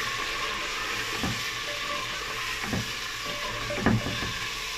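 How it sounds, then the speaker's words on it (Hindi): Chicken frying with onion, garlic and ginger for a radish chicken curry gives a steady close sizzle, broken by a few louder scraping stirs of a spoon in the pan; no one speaks. "इसको अच्छी तरह हम फ्राई करेंगे चिकन को प्याज के साथ"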